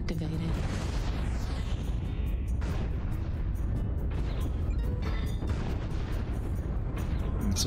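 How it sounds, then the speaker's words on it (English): Artillery strike explosions in the video game Cyclops, a dense, continuous barrage of loud booms and blasts rolling on for the whole stretch, with speech mixed into the din. "Artillery strike activated."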